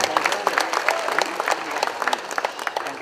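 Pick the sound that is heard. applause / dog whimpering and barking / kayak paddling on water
applause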